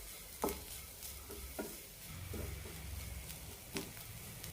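Sugar and cardamom stirred into an elanchi filling in a pan, with faint sizzling and a few distinct spoon scrapes and taps, close and quiet without talk.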